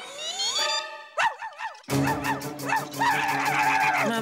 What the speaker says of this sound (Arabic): انظرا، لقد تسبب الكلب في احتجاز روبي فوق تلك اللوحة.